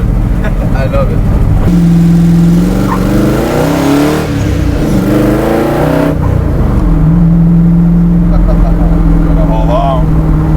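A Shelby Daytona sports car engine revs loudly and steadily, its pitch rising and falling through several pulls, with voices talking over the engine roar throughout.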